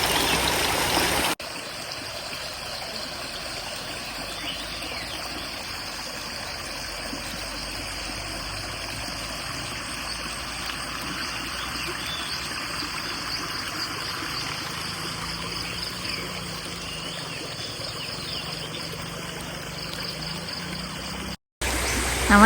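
Water flows in a stream beside a chalet in Baling, Kedah, a steady, close rushing wash that runs unbroken for the whole stretch.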